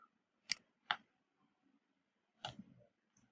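A few sharp, isolated computer mouse clicks, close and crisp, spaced irregularly with quiet gaps between them.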